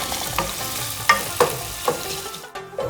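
Onions frying and browning in a pan for a dhaba-style kadhi pakora tadka give a steady close sizzle, with several sharp scraping clicks of stirring and no talk.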